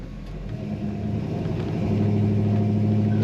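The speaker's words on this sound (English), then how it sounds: "This car corners as it should for a 1969 Oldsmobile. That lovely acceleration." A 1969 Oldsmobile Cutlass S Holiday Coupe accelerates, the engine note rising and growing louder over three seconds as it revs up, heard from inside without any talking.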